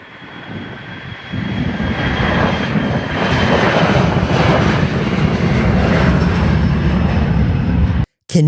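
Airplane passing near Minneapolis International Airport, a loud, sustained engine roar that swells early, holds steady for several seconds, then cuts off abruptly near the end.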